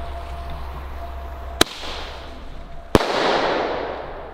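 Two sharp, loud cracks from small Thunder King Shock firecrackers go off outdoors about a second apart, the second followed by a hissing, crackling tail.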